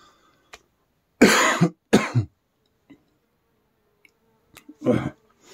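Several sharp coughs and throat clearings from someone breathing smoke near an abandoned house, in two close bursts and then a lone one, set against a quiet background.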